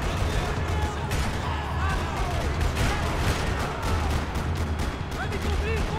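Gunfire in the third-person shooter Max Payne 3 during a parking lot firefight: dense, continuous bursts of shots and booms at a steady loud level with no gaps, layered over game sound.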